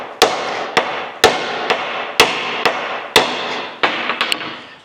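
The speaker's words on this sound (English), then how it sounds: "So I just hit the shaft here." A cross-peen hammer strikes the drive shaft yoke of a Scout, ringing metal blows at a slow irregular pace. About a dozen sharp hits are heard up close, each decaying briefly, with a few quicker taps near the end.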